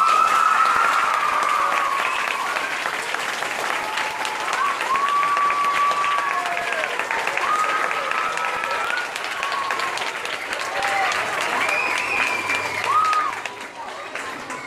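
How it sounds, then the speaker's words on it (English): Warm, sustained applause and light cheering from a school audience welcoming Dr. Jane Goodall, continuous clapping with a few bright whoops over it, easing off near the end. "Do you think you can help me give her a big round of applause?"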